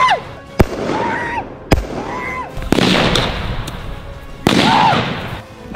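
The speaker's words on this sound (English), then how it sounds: "Have him shoot airsoft grenades." Airsoft grenades explode in a series of loud, sharp bangs, each followed by a hissing, crackling burst of spray or debris, while faint whistling tones sound in between.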